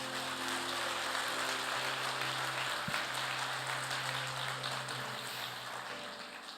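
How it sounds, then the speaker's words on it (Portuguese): A church congregation at a multigenerational gathering applauds Jesus, a steady dense wash of clapping held evenly throughout and fading slightly toward the end, with a faint low tone humming underneath. "Então dê um aplauso a Jesus."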